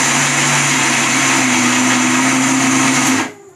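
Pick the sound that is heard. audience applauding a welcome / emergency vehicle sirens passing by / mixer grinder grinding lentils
mixer grinder grinding lentils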